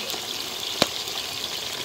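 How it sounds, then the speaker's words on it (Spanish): Chicken frying in a pan makes a soft, steady sizzling hiss, with one sharp pop of spattering oil partway through and no talking. "así es como se está friendo ya el pollo, miren"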